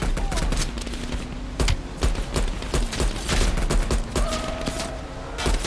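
Sustained automatic gunfire in Black Ops Cold War, loud and close, with dense bursts of shots and scattered impacts running continuously, game effects layered underneath.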